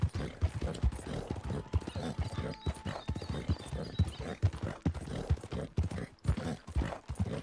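Horse hooves clip-clop in Red Dead Online in a steady, fairly close rhythmic gait on hard ground, joined briefly by faint mechanical jingling of tack, with no speech.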